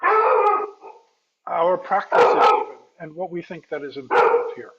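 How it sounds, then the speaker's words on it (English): A dog barks and howls in a home while a person keeps talking, with yelping, drawn-out howls mixed in with the speech at a moderate, close level. "Apologies for the dog."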